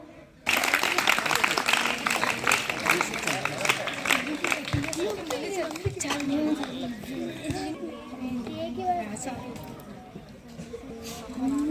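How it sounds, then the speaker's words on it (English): Audience at a school event applauds to welcome a guest, a loud sustained burst of crowd clapping that begins abruptly and carries on under chatter and voices for several seconds. "welcome our sir with big round of applause"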